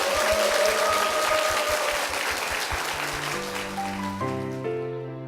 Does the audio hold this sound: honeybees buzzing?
no